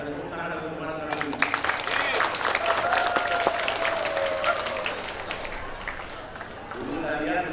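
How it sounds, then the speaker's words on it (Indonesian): Audience at a school anniversary ceremony breaks into loud, sustained applause with a few cheers, rising suddenly and fading after several seconds, heard in a reverberant hall. "Ya, tepuk tangan untuk masyarakat."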